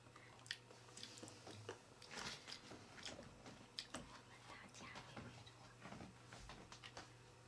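Someone chews hard candy made from a Kracie DIY candy kit, producing close, crunchy bites and soft chewing clicks in an irregular rhythm, quiet and near, with faint murmuring speech in the background.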